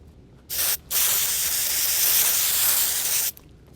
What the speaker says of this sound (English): I cut off a little piece of it and I applied stencil adhesive